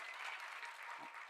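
An audience at a youth climate film festival award ceremony in Pakistan claps steadily for prize-winning student filmmakers, a dense and continuous round of applause with no gaps and no speech over it.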